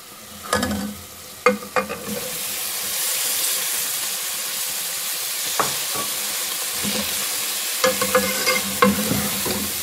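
Spinach sautés in a pan, a bright, steady sizzle swelling after a few opening utensil knocks, with spatula scrapes and taps returning near the end, close and without talk.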